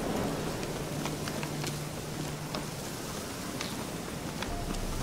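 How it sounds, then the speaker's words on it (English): Steady rain falls in The Witcher 3, a constant broadband patter and hiss that stays even throughout, with no voices over it. "Looks like rain."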